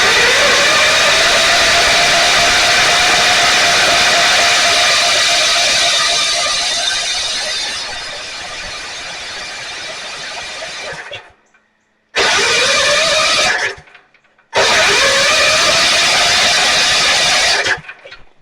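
A Generac 7000 EXL portable generator engine cranks loud and steady for about eleven seconds, then goes quiet, followed by two more shorter cranking bursts separated by brief silences, with no sign of the engine catching.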